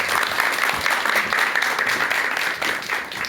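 A lecture-hall audience breaks into sustained, dense applause welcoming a psychiatrist's talk on anxiety, steady and fairly loud with many hands clapping at once, continuing without pause throughout.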